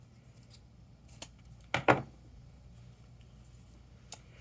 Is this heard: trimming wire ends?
yes